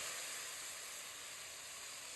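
Steady hiss of steam from water added to cooking rice with meat, continuous and close with no talk.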